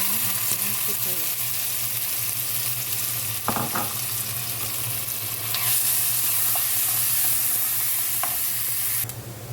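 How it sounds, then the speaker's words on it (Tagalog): Onions sautéing in a little oil for a lasagna, a continuous loud sizzle with occasional spoon scrapes and stirs, the frying growing brighter toward the end before cutting off. "konting oil, tapos igisa natin yung ating sibuyas."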